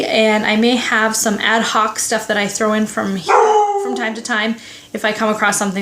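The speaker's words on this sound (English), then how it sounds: "Oh, sorry, that's my dog." A household dog barks and howls while someone talks, the drawn-out howl swelling above her voice for a moment before the barking carries on under the speech.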